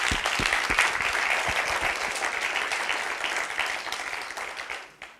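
An audience applauds the speakers at an awards ceremony, a dense, steady wash of clapping from many hands that fills the whole stretch and fades slightly near the end.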